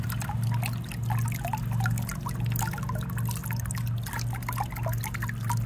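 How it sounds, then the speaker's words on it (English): Water trickles and drips steadily out of a cracked spa, a continuous close liquid dribble with small splashes over a low steady hum. "there's quite a bit of water coming out."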